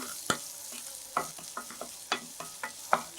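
Ginger and green chili frying in a pan for puli inji, a low sizzle punctuated by a dozen or so sharp stirring scrapes and taps at an uneven pace, close up with no voices.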